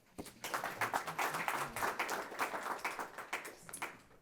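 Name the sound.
audience applause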